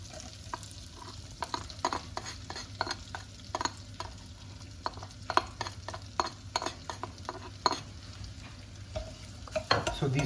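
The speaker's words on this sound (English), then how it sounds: "Now it's time to add the finely chopped garlic." Finely chopped garlic frying in a pan for curry, a soft continuous sizzle broken by many quick spoon strokes and taps against the pan in a busy, irregular rhythm, close but fairly quiet, with no speech.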